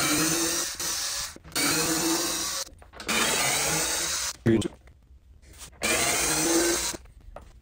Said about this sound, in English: We'll use a drill just to make things a little bit easier and quicker.